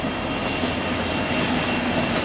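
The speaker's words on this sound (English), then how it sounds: "Oh, look at that airplane." Steady, loud engine roar of an airplane passing overhead, continuous and unbroken throughout with no voices.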